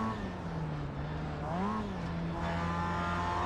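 A race car engine in the racing game iRacing drones steadily, then its pitch sags as revs fall during a gear shift, briefly swells, and settles again into a lower, even hum.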